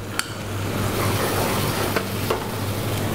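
Ground tomato and garlic paste hits onions frying in oil for achari chicken, setting off a steady, close sizzle broken by a few faint clinks of a utensil.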